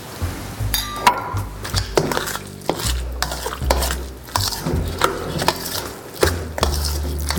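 Cheddar cheese and cream stirred into warm pumpkin, with repeated wet scraping and soft clinking strokes in a steady, uneven rhythm, close and fairly loud over a background of music.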